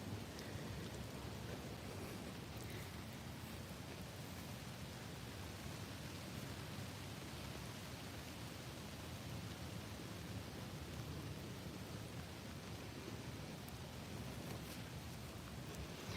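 Rain falls at Fort Houston Cemetery in Texas, a faint, even wash of steady patter with no break or change in intensity and no voices.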